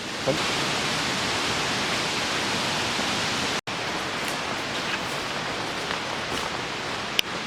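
A loud river rushes past close by, a dense, steady roar of flowing water filling the whole stretch with only one brief cut midway.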